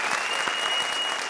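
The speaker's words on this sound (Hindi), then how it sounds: "जोरदार तालियां।" Loud applause from a comedy show audience, dense, continuous clapping filling the whole moment with a crowd murmur beneath.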